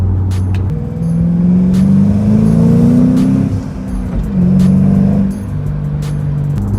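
Deep V8 engine of a Ford Mustang Bullitt revving up and easing off in a couple of throaty surges, loud and close, with no voices.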